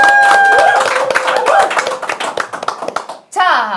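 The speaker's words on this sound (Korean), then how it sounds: "제가 박수하면 다 같이 박수 쳐주시고 가겠습니다" Studio crowd clapping in unison on cue during the closing of a Korean small-business sales competition show, a dense burst of hand claps under ongoing talk, ending with a brief gap and a final swell.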